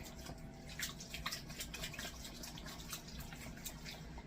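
Water trickles and splashes into a dish of scalloped potatoes, a soft continuous pour with faint droplet patters, quiet and close.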